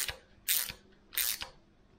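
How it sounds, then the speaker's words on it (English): A socket ratchet tightens the tensioner bolt on a Ford Cortina Mk3 engine, giving two quick close clicking bursts of pawl ratcheting with short pauses between strokes. "So if I nip this bolt up,"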